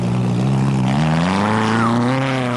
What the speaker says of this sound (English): The little Trussie with its Golf engine was looking virtually spotless and sounding smooth as Nel negotiated his way over and through the obstacles in his path.